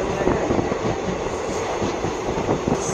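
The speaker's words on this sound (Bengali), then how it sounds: "আজকে আলিপুরদুয়ার ইন্টারসিটি এক্সপ্রেস।" Alipurduar Intercity Express (15767) running through the Dooars, a loud, steady rumble of wheels and carriage with faint clickety-clack beats heard close, as if from on board.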